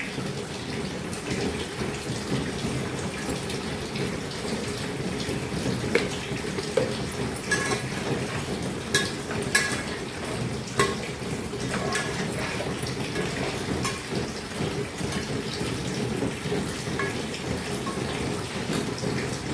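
Water pours steadily into a pot of fish curry in a continuous gush, with a few faint clinks and no talking.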